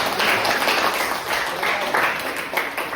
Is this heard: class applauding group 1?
yes